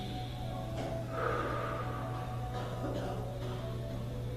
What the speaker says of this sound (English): Take a breath. Breathing in.